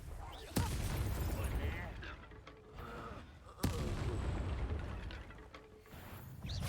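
Confringo blasting spell cast in the Hogwarts Legacy video game, two sharp blasts about three seconds apart, each a loud crack trailing into rumbling crackle beneath game sounds and voices.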